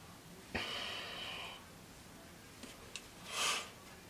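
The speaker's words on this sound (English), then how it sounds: "I always sniffle." A person sniffles through the nose: one sharp intake followed by a sustained airy draw, then a couple of tiny clicks and a second short, hissy sniff a few seconds later, close and alone in a quiet kitchen.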